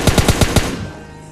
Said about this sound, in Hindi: AKM वाला सामने अभी फायरिंग ही कर रहा था किसी पे।